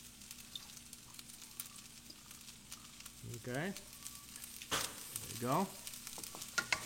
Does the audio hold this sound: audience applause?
no